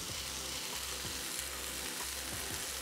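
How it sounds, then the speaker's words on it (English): Bean sprouts hit a hot wok and fry with a loud, steady sizzle, close up, with brief stirring scrapes breaking the hiss at regular intervals; no talking. "Now, in go my bean sprouts."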